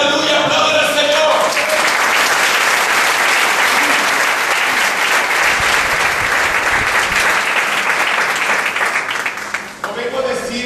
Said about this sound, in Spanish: Aleluya, aplaudan al Señor.